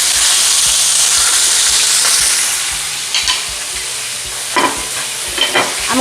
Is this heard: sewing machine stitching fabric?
no